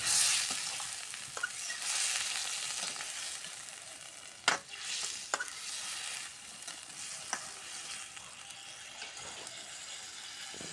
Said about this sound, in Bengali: মশলার সাথে কত সুন্দর ফুলকপিটা আমার ভাজা ভাজা হয়ে গেছে